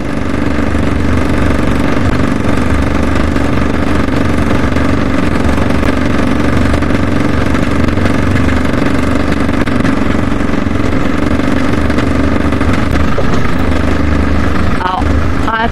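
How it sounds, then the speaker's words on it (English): A vehicle driven off-road at night produces a loud, steady engine drone throughout. A windscreen resting on the bonnet adds a continuous rattling vibration, and a voice speaks briefly. "those of you hearing the vibrations. That's my windscreen on the bonnet"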